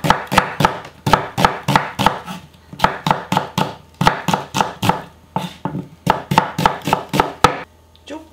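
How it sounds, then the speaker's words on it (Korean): A knife thinly slices radish for chonggak kimchi on a cutting board, making quick, close, rhythmic chops in bursts of several strokes with brief pauses between runs. "얇게 슬라이스"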